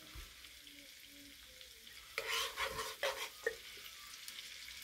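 Chicken being cooked with 7Up sizzles and fries in a pan as a spoonful of honey goes in, a steady low hiss that flares into louder crackling bursts midway, close by with no talking.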